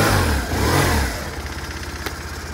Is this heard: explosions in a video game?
no